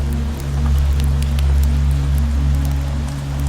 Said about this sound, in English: Then she begins to hear the trickle of rain outside. It taps on the window behind the sofa.